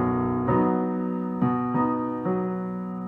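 Piano plays chords from a song, a few sustained chords struck in sequence with each one ringing and fading, heard close and alone.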